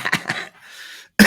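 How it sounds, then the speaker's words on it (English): A short, husky cough of a few rough bursts, close and loud, followed by a quick harsh exhale and another sharp cough. "I've got husky cough."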